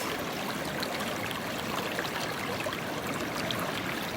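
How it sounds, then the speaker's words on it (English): Water streams down from forested mountains toward the ocean, a continuous, dense rushing wash with no breaks. "all this water coming down from the mountains, the forest"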